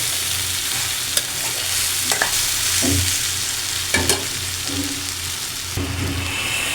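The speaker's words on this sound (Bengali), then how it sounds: "আলু ভাজিতে এখন আলু ছেড়ে দেব।" Potatoes for aloo bhaji sizzling and frying in a pan, a steady hiss broken by several sharp stirring scrapes and clinks, close up with no voices.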